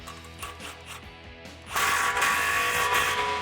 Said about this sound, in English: now we can tighten up that clamp